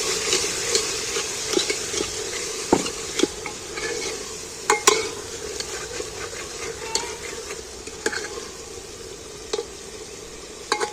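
Spiced masala for mutton curry sizzling and frying in hot oil, with a steady crackle broken by sharp scrapes and clicks of stirring, close and fairly quiet.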